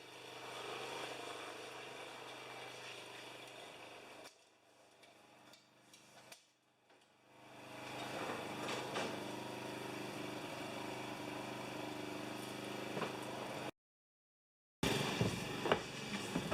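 Small running lawn mower engine holds a steady idle hum with some hammering knocks, dips quieter for a few seconds, then returns. It cuts out briefly near the end before resuming.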